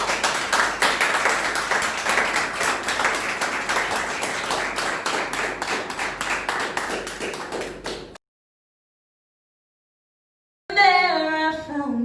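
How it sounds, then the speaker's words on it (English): Audience applause at an awards ceremony, a dense sustained round of clapping from a crowd that fills about eight seconds, then cuts to silence before a brief burst of another sound. "round of applause once more"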